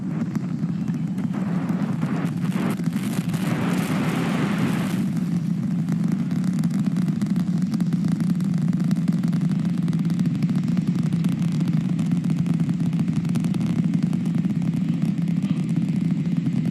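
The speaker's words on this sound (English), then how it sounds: "The rumbles are still building here in the Raptor's nest." SpaceX Super Heavy Starship rocket on its fourth flight climbing after liftoff, heard from a distance as a steady, deep, continuous rumble with a crackling roar that swells briefly early and then holds level throughout.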